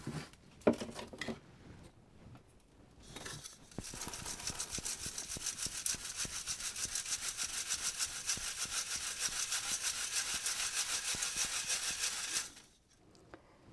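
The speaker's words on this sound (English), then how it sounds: "So I'm just going to sieve that out." Potting mix is shaken through a sieve for seed starting, a steady gritty rattling and rustling for about nine seconds after a few brief handling sounds, close and moderately quiet.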